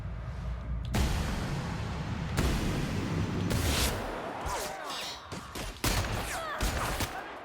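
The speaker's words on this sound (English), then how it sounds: "I'm taking their little, gun, a little vaporizer gun that they like to use" A vaporizer gun firing in the video game The Outer Worlds, a series of abrupt, crackling energy bursts with hissing, warbling tails, several shots spaced a second or two apart, close and loud.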